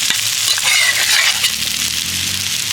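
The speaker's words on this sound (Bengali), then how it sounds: "এবার আমি সেদ্ধ করে রাখা আলুটা দিয়ে দেবো।" Boiled, hand-mashed potatoes frying in a pan for samosa filling, with a loud, steady close sizzle and stirring throughout.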